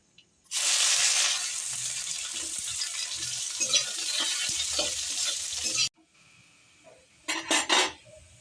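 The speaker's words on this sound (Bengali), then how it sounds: "রসুন পেঁয়াজ শুকনো লঙ্কা আমি একসাথে ভেজে তুলে নিলাম।" Onion sizzling loudly in hot oil with dried red chillies: a bright, dense frying hiss starts abruptly, runs steadily with faint scraping, then cuts off, followed by a few metal clatters of utensils near the pan.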